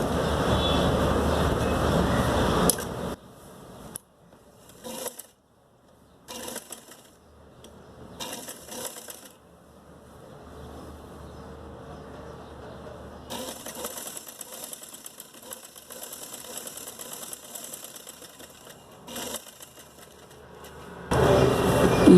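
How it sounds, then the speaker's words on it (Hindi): A sewing machine stitching the fitting seam of a bell sleeve, irregular bursts of mechanical whirring broken by pauses and handling noises, with a louder run at the start and end. "अब हम अपनी स्लीव्स की फिटिंग की सिलाई करेंगे।"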